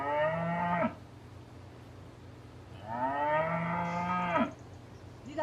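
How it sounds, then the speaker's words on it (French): Cattle mooing: two long, loud, drawn-out moos separated by a quiet pause of about two seconds, with no other voices. "Les vaches, ce sont des bovidés, ça veut dire que ce sont des ruminants."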